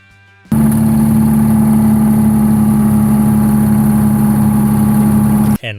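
Detroit Diesel 6V53 engine running, starting abruptly into a loud, steady, close drone with a buzzy two-stroke harmonic tone that holds for about five seconds and then cuts off.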